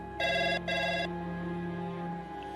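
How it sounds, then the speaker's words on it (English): An old landline telephone rings in the early morning, two close electronic bell bursts in quick succession, then a steady hum lingers after the ringing stops. "the phone starts ringing"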